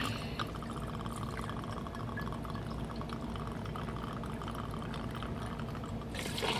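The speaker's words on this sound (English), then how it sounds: "I will be using 3 ounces of the Kangaroo gin." Gin is poured into a metal mixing tin with ice for a martini, a steady close trickle of liquid lasting several seconds, ending with a light clink, no talk.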